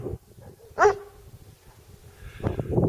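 A big sheepdog guarding sheep by old stone walls gives a single loud, close bark, followed by softer whimpering and yipping noises.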